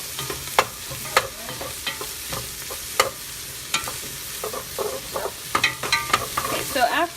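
Ground meat with vegetables and garlic browning in butter in a pan, a steady sizzle broken by repeated scraping clicks of a utensil stirring, growing busier toward the end.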